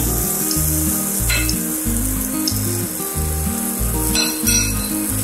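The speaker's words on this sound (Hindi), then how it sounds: "तो चलिए अब एक लेडल की हेल्प से मैं पैनकेक का बैटर डालता हूँ पैन में।" Sugar-free pancake batter sizzling in a buttered non-stick pan over medium heat, a loud, steady, close frying hiss with a faint metallic clink of a ladle.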